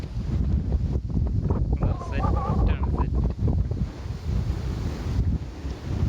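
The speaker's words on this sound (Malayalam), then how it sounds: "കാറ്റെന്ന് പറഞ്ഞ ഒരു രക്ഷയില്ലാത്ത കാറ്റ്." Strong wind on a rocky hilltop buffets the microphone in heavy gusts and rumbles, with a person speaking briefly underneath.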